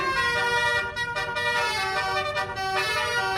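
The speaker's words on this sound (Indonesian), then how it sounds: "sopir bus tersebut asyik memainkan klakson telolet yang khas" A yellow bus pulling slowly out of a parking lot plays a telolet horn, a loud, continuous multi-tone musical honk sounding as a sustained melody with brief dips, close by and without talk.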